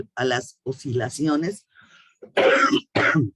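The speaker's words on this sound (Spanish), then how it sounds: "traigo una tos" Speech is interrupted by a couple of harsh, throaty coughs, loud and close, with talking continuing on both sides.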